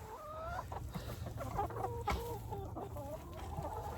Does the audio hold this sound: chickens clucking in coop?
yes